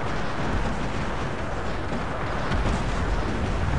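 A battle in Cossacks 3 with massed cannons firing: a steady, loud roar of overlapping artillery blasts and distant gunfire, rumbling on without pause for several seconds and without any talk.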